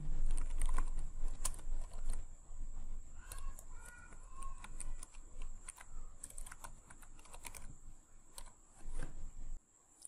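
Quick clattering keystrokes on a computer keyboard while typing Java code, a close, steady stream of taps with short pauses and a constant high-pitched whine in the background.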